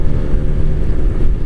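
Kawasaki Ninja two-stroke motorcycle engine on a stock exhaust, a loud, low, steady droning rumble with rough buzzing texture and some wind buffeting on the microphone.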